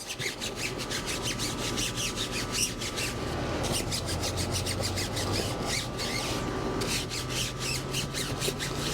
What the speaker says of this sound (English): I'm going to do one squeeze of my cleaner, and let's get down low. I can scrub down here.